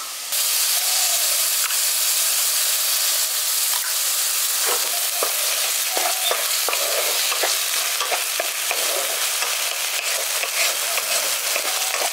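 Ginger-garlic paste frying with onion paste in a pan for a village-style dahi pabda fish curry, loud continuous sizzling with repeated close scraping clicks of a spatula stirring.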